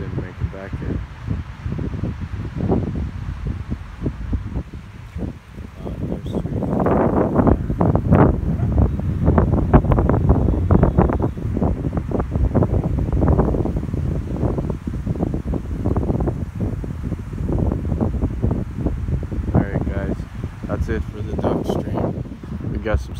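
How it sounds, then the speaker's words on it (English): Strong wind by open water with sailboats and waves nearby, gusting loudly and buffeting the microphone in heavy, rumbling bursts that swell in the middle and persist throughout. "The wind is blowing 20 kilometer an hour winds."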